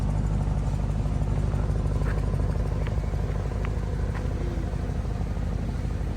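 A 2022 Audi S8 with an active quad exhaust giving off a low, steady rumble, heard close and continuous with a few faint metallic ticks and no talk.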